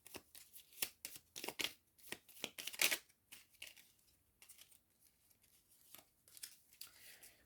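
Oracle cards being shuffled and drawn by hand, a burst of quick riffling flutters and crisp slaps up close, then softer sparse card handling as the shuffle slows.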